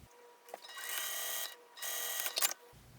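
A sewing machine stitches two fabric pieces along their edge, whirring steadily in two runs separated by a short pause, close and fairly quiet, with no talk.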